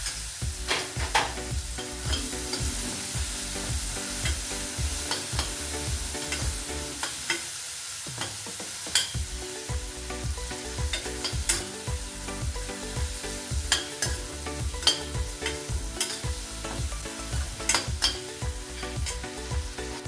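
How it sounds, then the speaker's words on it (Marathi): Tomato, garlic and curry leaves being stirred in a hot pan for khichdi, repeated spatula scrapes and knocks over a constant sizzle, close and fairly loud, with one brief lull partway through. "आता हे आपण सर्व व्यवस्थित हलवून घेऊ"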